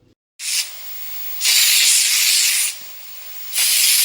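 A cooking oil spray bottle gives three separate hissing sprays, loud and close, each lasting about one to two seconds with silent gaps between them.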